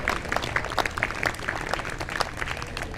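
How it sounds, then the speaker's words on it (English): Steady applause from an audience, many hands clapping in a dense wash that holds at an even level throughout. "give yourselves a round of applause"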